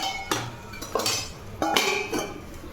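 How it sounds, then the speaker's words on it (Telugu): Metal pot lid set onto a cooking pan of tomatoes and onions, a few close, bright clanks and clinks of metal on metal in quick succession, with a light rattle between them. "ఇవి మనం మళ్ళీ ఒకసారి 2 మినిట్స్ to 3 మినిట్స్ లిడ్ పెట్టేసుకుందాం"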